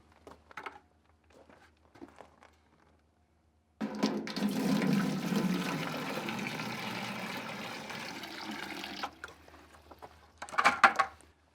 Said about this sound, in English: we have to add water in the metal container